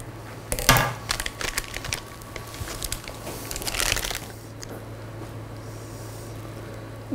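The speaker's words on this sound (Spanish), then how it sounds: "Y con unas tijeras cortaremos." Scissors cut through a plastic piping bag in a pastry kitchen, a burst of close crunchy snipping and crinkling up front, another rustle near the middle, then quieter room hum.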